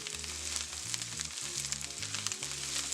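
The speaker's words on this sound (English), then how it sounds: "The corn has started to caramelize," Corn kernels caramelizing in a hot pan give a steady, close, bright sizzle and crackle throughout, with no voices.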